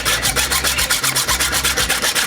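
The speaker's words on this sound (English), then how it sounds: "I'm gonna just measure the 4 inches and cut that." A hand saw cuts through PVC drain pipe, making a steady back-and-forth rasping rhythm of about a dozen strokes, loud and close with no talk.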